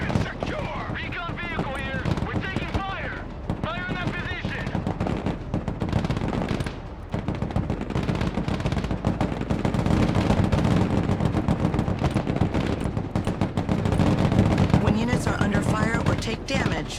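Heavy machine gun fire and explosions rattle through a battle in the video game Broken Arrow, long sustained bursts of rapid shots under shouted radio-style voices and dense combat noise.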